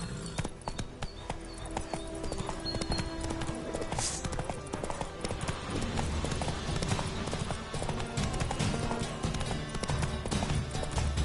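Horse hooves pound in a steady galloping clip-clop through a busy fantasy game soundscape in The Witcher III: Wild Hunt, with rhythmic beats continuing over layered ambient noise and effects, no talk present.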